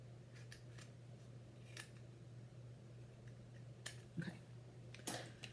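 Scissors snip a few times while opening cardboard shipping boxes, with quick sharp cuts spread over a quiet room hum and a couple of clustered snips toward the end.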